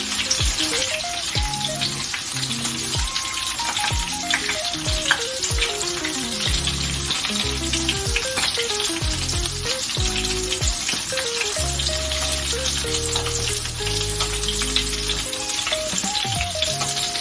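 Bacon grease sizzles steadily in a pan, warming for caramelizing onion, with a constant crackling hiss under music.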